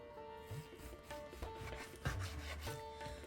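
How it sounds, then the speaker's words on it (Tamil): A knife slices a chicken breast in half on a board, giving soft, close rubbing and scraping strokes with a few dull knocks, faint and with no talking. "இப்போது இந்த பிரெஸ்ட்டு பார்ட்டை பாதியாக கட் பண்ணுங்கள்."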